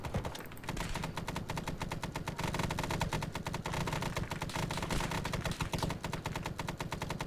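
Sustained machine-gun fire in Arma 3 SOG Prairie Fire, dense rapid bursts of automatic weapons with booming impacts, loud and continuous throughout with no pauses.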